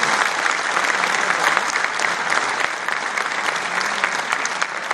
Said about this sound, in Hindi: अरे तालियां बजाना है तो प्रजा ढंग से बजाओगे तो लगना चाहिए।